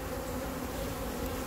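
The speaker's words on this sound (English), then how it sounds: "There weren't as many bees in this one either." Steady buzzing of many bees at small mating nucleus hives, a dense continuous hum close by with no voices.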